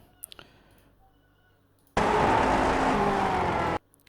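A Lotus 49 race car engine in the iRacing sim at Le Mans, a sudden loud steady roar for about two seconds that cuts off abruptly after a few faint clicks.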